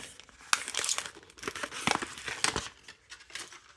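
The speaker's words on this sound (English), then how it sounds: "pull down that tab. All the way down, and then unwrap it." Plastic wrapper of a Mini Brands toy capsule being crinkled and torn open by hand, a close, busy run of sharp crackles and rips with no talking.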